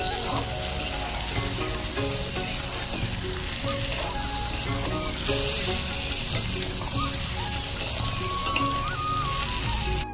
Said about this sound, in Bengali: আমি এবারে দিয়ে দেবো সেই ভেজে রাখা পটলগুলো পটলগুলো দিয়ে আস্তে করে নিয়ে দেবো